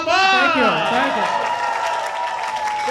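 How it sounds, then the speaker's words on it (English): Comedy show crowd breaks into applause and cheering, opening with a loud whooping voice over the clapping before settling into steady, fairly loud applause. "Big round of applause, everyone else."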